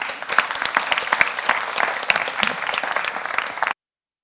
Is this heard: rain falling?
no